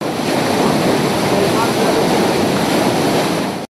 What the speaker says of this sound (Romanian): Conducta spartă a devenit o adevărată fântână arteziană.